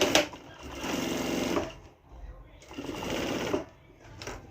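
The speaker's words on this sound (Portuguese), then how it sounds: "E vou costurar aqui o meu plástico" A sewing machine stitches a plastic cover for a sublimated document holder in two sustained close runs separated by a brief pause, with a dense rapid mechanical whir.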